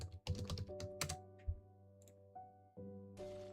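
Quick irregular keystrokes on a computer keyboard, close and moderately loud, with a steady low electronic hum running underneath.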